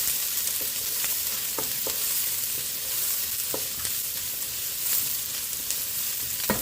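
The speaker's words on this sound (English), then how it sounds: "Add my garlic." Garlic frying in a pan with bitter melon for a Chinese breakfast dish, a steady close sizzle with scattered sharp crackles and pops throughout, no talking.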